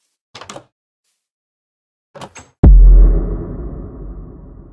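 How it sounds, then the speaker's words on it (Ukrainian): A door opens in a Minecraft game: two short clicks, a pause, two more clicks, then a sudden loud thud that fades into a rumbling tail, all close and without talk. "раптом ми можемо почути звуки відкривання дверей"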